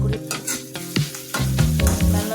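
Food fries in a pan until reddish, with close sizzling and stirring scrapes in quick uneven bursts under a faint tonal hum, and no talk.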